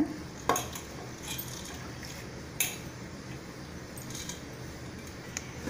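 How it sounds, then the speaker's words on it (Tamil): Sprouted horsegram is tipped into a pressure cooker holding water, giving a couple of sharp metallic clinks and splashes over a quiet liquid background, with a few lighter rattles between them. "கொள்ளு எடுத்துக்கலாம். போட்டுக்கோங்க."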